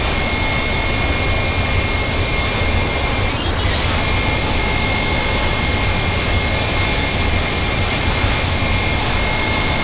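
Jet engines of a Wizz Air airliner roar steadily on takeoff in the Prepar3D flight simulator. The sound is loud, continuous and broadband throughout, with a brief rising whine partway through.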